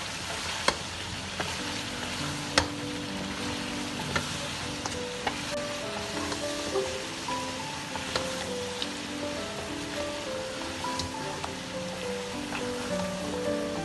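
Beef and spice masala frying for Sindhi degi biryani, a dense steady sizzle with scattered spatula clicks as it is stirred, alone and close, with a soft melodic tone running underneath.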